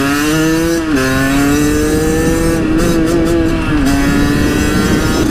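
HM motorcycle engine while riding, a loud, close, steady drone whose pitch dips briefly and then holds, with slight shifts as the throttle and engine braking change.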